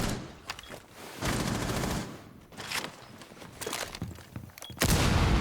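A breaching charge detonates in an online shooter video game, with several loud, sharp broadband blasts and bursts of rapid gunfire-like cracks spread through the stretch. No one speaks.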